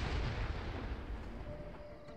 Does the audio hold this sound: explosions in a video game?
yes